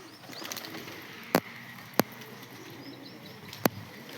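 Soft pigeon cooing and faint bird calls drift through a quiet outdoor scene, broken by three sharp isolated clicks or taps, the birds sounding moderately distant and low in level.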